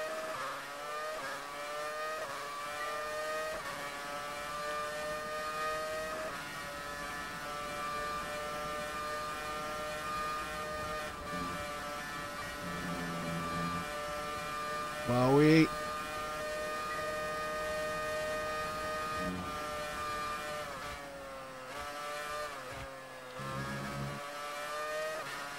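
An F1 car in the F1 2019 game at the Australian circuit, its engine holding a high, steady whine with a quick rev sweep midway, heard continuously under game audio and no talk.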